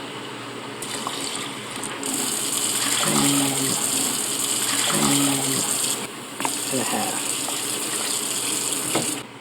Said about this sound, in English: Okay guys, I'm gonna put in the cups of water.